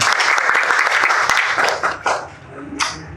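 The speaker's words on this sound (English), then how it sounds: "give yourselves a round of applause" Dense, loud applause from a lecture audience at an ISKCON talk, a thick wash of clapping that thins out and trails off after about two seconds, leaving a few stray claps.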